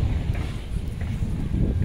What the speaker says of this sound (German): Der Wind kommt noch dazu.